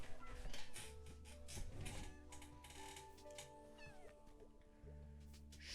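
A cat meows in a cooking and cat-feeding video game, several short mews over soft background music and clicking interface sounds, fairly quiet throughout.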